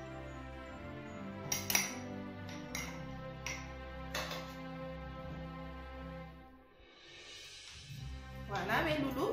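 A spoon packing foie gras pieces into a glass jar, with scattered light clinks and scrapes against glass heard close, mixed with an ongoing low hum and a person talking throughout.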